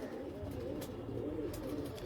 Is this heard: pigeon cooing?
yes